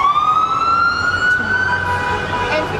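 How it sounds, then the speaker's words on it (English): An emergency vehicle siren wails loudly on a Chicago city street near hospitals, a single rising tone sweeping up steadily and holding close by over traffic rumble. "That's why you hear so many sirens"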